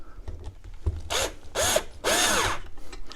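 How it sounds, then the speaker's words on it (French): A power screwdriver drives a screw into a homemade bike trainer at close range, in two loud whirring bursts separated by a short pause. "on va visser"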